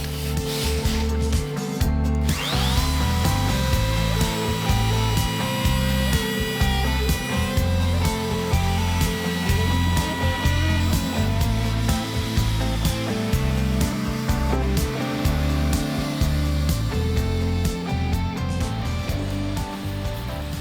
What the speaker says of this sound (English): Slightly regrettable using a blunt trimmer bit because now I've got a lot of hand sanding.